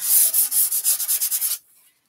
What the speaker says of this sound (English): And then I'm going to do the sanding.